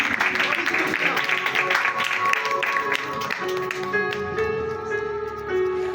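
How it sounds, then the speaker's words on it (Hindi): Congregation clapping for themselves at a Christmas church gathering, a dense burst of many hands under ringing musical tones, thinning toward the end as sustained notes carry on. "मैं चाहती हूँ अपने अपने लिए तालियां बजाएं, अपने लिए तालियां।"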